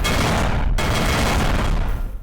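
Explosions in the video game House Flipper, where a house is blown up, roar as a loud, continuous rumbling barrage of blasts with no break for over two seconds, then tail off slightly at the end.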